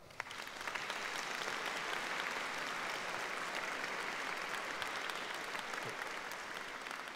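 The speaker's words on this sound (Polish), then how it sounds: "brawa!" Steady applause from a concert audience in a parish church, even and continuous throughout, fairly distant and soft in level, with no voices standing out.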